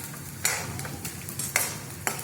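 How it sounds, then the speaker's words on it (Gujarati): Edible gum (gund) frying in a pan, with a steady low sizzle and a few sharp metallic clinks from stirring at intervals, heard alone without talk. "મસ્ત લાઇટ પિંક થાય ત્યાં સુધી તળવા દેવાનો ગુંદને"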